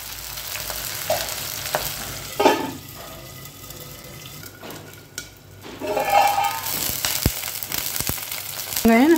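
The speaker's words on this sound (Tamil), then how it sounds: "இது நம்ம எண்ணெயில் வந்து நல்லா வதக்கி விட்டுடலாம். வெங்காயம் வதங்கட்டும்." Onions sautéing in oil in a clay pot for netili fish kuzhambu, a close crackling sizzle with occasional spoon scrapes and clinks against the pot, rising louder toward the end with no talking.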